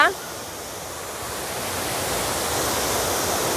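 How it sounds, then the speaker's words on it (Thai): Water roars steadily into a pool at the first tier of the Nine-Tier Waterfall in Suan Phueng, Ratchaburi, a dense, close, continuous rush with no break. "นี่ก็จะมีแอ่งน้ำตก"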